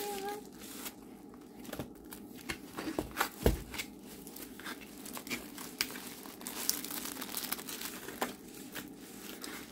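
Packaging on a diamond painting canvas kit being opened, with close, crisp crinkling and tearing of plastic wrap in irregular bursts, and someone speaking softly at times.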